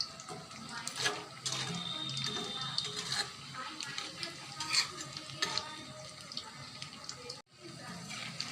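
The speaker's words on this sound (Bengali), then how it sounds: "একদিকে আমার ভাজা হয়ে গেছে, এখন আমি উল্টাই দেব" Chicken breast tikia kebabs fry in a pan and are turned over one by one, with a steady crackling sizzle, clattering utensil contacts and a short pause near the end.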